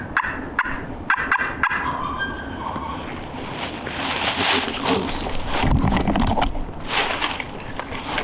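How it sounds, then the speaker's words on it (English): A wild turkey gobbler on public land, down a hill below, gives an odd, hen-like gobble; sharp clicks open the clip, then a rough, sustained rattling call rises and swells mid-clip at moderate distance, with no talking. "That was a weird gobble."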